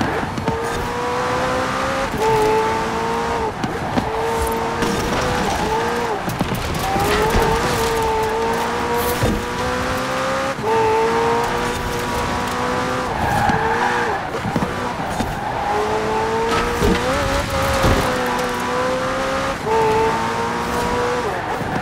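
A McLaren Senna in the racing game Forza runs the Goliath circuit, its engine droning in rising and falling shifts with repeated tyre squeals through corners. The sound is loud and continuous.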